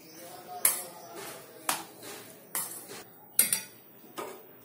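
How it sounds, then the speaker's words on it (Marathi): A spoon stirring makhana powder into moong dal batter in a bowl, with four or five clear clinks against the side between soft scraping and mixing, close and fairly loud. "आता याच्यामध्ये आपण हा मखाण्याचं पावडर टाकून घ्यायचं आणि याला मिक्स करून घ्यायचं."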